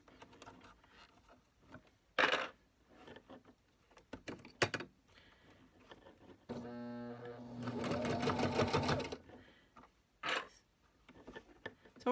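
Thick fabric for a lined face mask with a pocket being sewn on a home sewing machine: a short, close, rapid mechanical run among scattered handling knocks and thumps.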